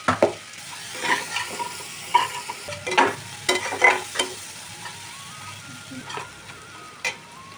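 Chopped onion frying with a paste of tomato, garlic and ginger for a prawn malai curry: steady soft sizzle with intermittent stirring scrapes and clinks of a spoon in the pan, close by, without talk.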